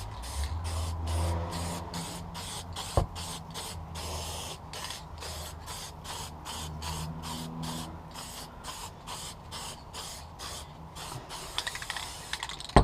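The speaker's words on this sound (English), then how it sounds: "I get a good spray of this color first." An aerosol can of spray paint hisses in a rapid series of short spray bursts onto a rubber casting, rhythmic and close, with a faint mechanical rattle underneath.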